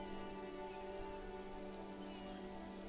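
Rain falls steadily in the video game Disco Elysium, a soft, even wash of drops layered over a low humming drone, with no voices.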